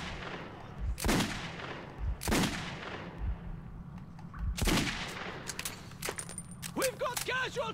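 Separate sharp pistol shots from Metro 2033, three loud reports spaced a second or more apart with echoing tails, followed by quicker lighter clicks and metallic game sounds over a low background rumble.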